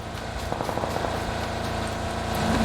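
Idling buggy engine in PUBG (Battlegrounds), a steady low rumble running throughout at moderate level, with no speech.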